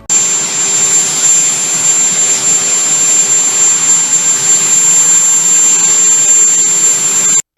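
The Air Force One helicopter runs its engine nearby, a loud, steady turbine whine with a piercing high tone and a lower hum, unbroken for several seconds before stopping abruptly.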